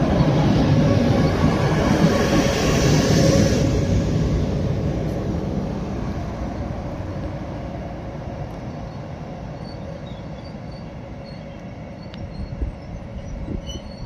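Swedish sleeper train rolling on rails toward Stockholm, a loud, steady broadband rumble of wheels and carriages that slowly eases and settles into a continuous ride noise, with a few faint squeaks near the end.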